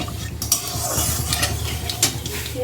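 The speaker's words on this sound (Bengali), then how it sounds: "মা তেলের মধ্যে কালো জিরে ফোড়ন দিয়ে দিয়েছে" Nigella seeds crackle in hot oil for a pumpkin greens and prawn dish, a steady close sizzle with scattered sharp pops and a few scraping clinks of a utensil against the pan.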